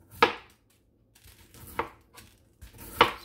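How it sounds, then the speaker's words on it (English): Potatoes being chopped on a board, three sharp knife thuds spaced about a second apart with fainter taps between, close and clear. "So let me finish chopping up these last two potatoes."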